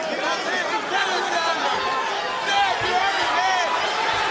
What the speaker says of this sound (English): Crowd really getting into this fight